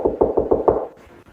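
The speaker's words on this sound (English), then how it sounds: "Can you knock on the wall like this?" Five evenly spaced knocks on a wall inside an 1800s tin shop, loud and close in a steady rhythm, followed by a quiet pause with faint room noise.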